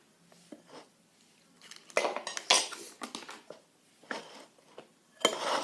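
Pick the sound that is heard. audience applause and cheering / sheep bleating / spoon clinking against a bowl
spoon clinking against a bowl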